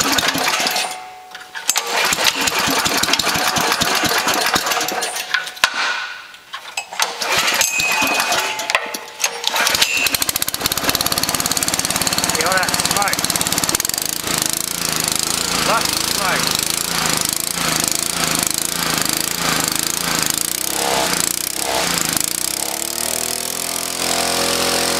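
A Honda GX140 small gas engine runs close by. It sputters with dips and breaks at first, then settles into a loud, steady, rapid putter, with speech at times.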